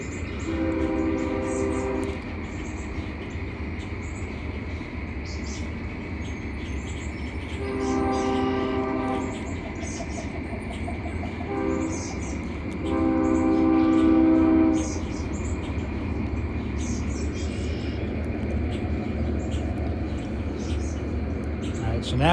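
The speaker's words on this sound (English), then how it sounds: "I think I hear a Norfolk Southern train coming." A Norfolk Southern freight train rolls past outside, a steady rumble underneath while its horn sounds in three separate blasts, the last one loudest. A voice is heard briefly.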